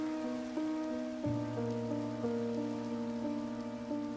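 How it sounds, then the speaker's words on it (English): Rain falling in the Minecraft video game, a steady soft patter that carries evenly throughout while a sustained musical tone plays over it, with no talking. "Rain might mean there's gonna be a thunderstorm."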